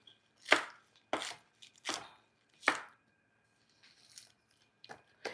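Green onions chopped on a cutting board: four firm, evenly spaced knife strikes close by, followed by a few lighter, scattered taps.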